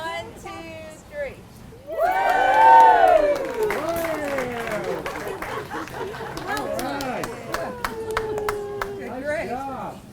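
Crowd at a ribbon cutting for the restoration at Ann Norton Sculpture Gardens bursting into cheers and whoops with scattered clapping, voices rising loudly then continuing as excited chatter.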